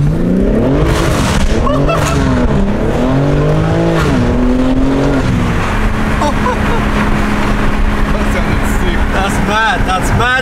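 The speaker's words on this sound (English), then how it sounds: "So we're going to do a review, X-Force exhaust on this M3." A BMW G80 M3 fitted with an X-Force exhaust revs hard, its engine note rising and falling in repeated loud sweeps before it settles into a sustained high drone.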